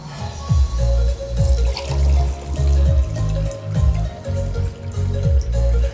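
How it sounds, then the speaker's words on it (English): Water poured from one glass into another, a continuous splashing liquid stream with repeated gurgling surges, close and fairly loud, with no talking. "From one glass to another, water gets transferred."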